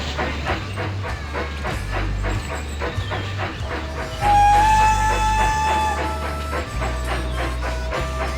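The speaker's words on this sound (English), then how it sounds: "let's get our first train going" Steam train running in the video game Railroad Tycoon 3, a rhythmic chuffing and clacking beat with a loud whistle blast midway, continuous and close.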